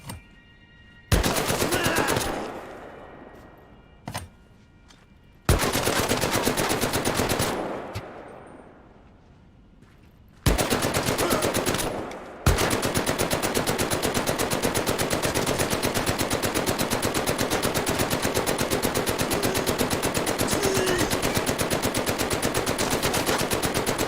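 Pistol fire from a P08 in the video game Medal of Honor: Above and Beyond comes as loud, rapid bursts of shots, separated by short gaps and then running as one long continuous stretch of firing.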